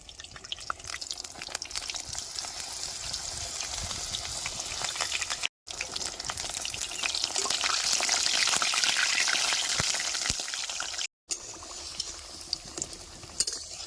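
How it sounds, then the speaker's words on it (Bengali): Batter-dipped red shaluk (water lily) stem fritters fry village-style in hot oil, giving a steady, close crackling sizzle that swells toward the middle and is broken by two very brief silent gaps. "এই বেলাটা এখন সরাসরি গরম তেলের মধ্যে দিয়ে দেবো"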